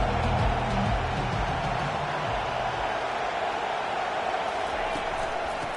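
Dense stadium crowd roar in a college football video game, steady and loud throughout, with a low rumble early on that fades.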